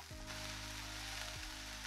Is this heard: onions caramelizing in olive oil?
yes